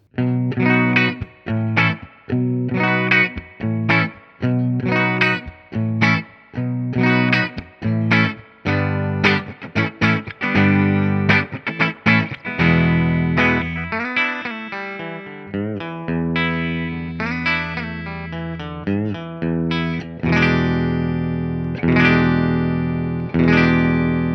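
An electric guitar through a chain of Boss buffer pedals plays choppy chords, then sustained ringing notes and runs, with a bright, slightly driven tone, loud and alone.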